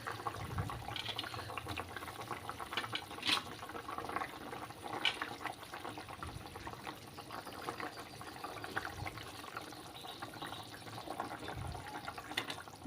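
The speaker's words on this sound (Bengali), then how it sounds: "জলটা ফুটে উঠেছে এবার এবার মাছগুলো দিয়ে দেবো" Fish pieces go into boiling water for a thin curry, giving a quiet, steady bubbling and watery churn with a few faint splashes, close but low in level.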